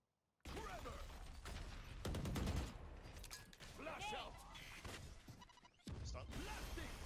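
Repeated gunfire from shooting practice bots on the range in Valorant, sharp shots in bursts across the clip, mixed with game effects and speech-like sounds.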